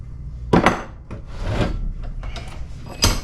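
An old wrench runs down an AN hose fitting on a 1989 Chevy 1500 4x4 during a TBI-to-carburetor swap, making close metallic clanks and scraping ratchet-like turns, with a sharp knock at the start and another at the end.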